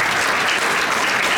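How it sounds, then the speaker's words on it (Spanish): A church congregation claps for the Lord during a sermon, producing dense, loud and steady applause that fills the whole moment without a break. "¿Cuántos le pueden dar un fuerte aplauso al Señor?"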